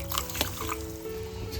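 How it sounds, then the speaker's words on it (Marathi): Water is poured into a pot of mutton masala during home cooking, giving a brief liquid splashing and trickling over a low kitchen background hum. "वरतून पाणी अजून घालते याच्यामध्ये,"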